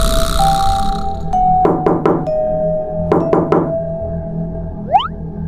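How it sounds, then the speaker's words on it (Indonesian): Knocking on a door in the Sakura School Simulator game, two quick bursts of three loud raps each over a steady background music drone, with a rising synth blip near the end. "Kok seperti ada suara orang mengetuk pintu?"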